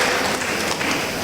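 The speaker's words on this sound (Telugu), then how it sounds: "గట్టిగా చప్పట్లు కొట్టి గట్టిగా దేవుని మహిమ పరుద్దాం." A church congregation claps loudly during worship, a dense continuous burst of many hands clapping together close by, without talk.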